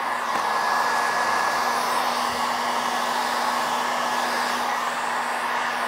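A heat gun warms Surfex vinyl interior film being wrapped onto a round table top, giving off a continuous steady whooshing blow with a faint whine, close and unbroken throughout.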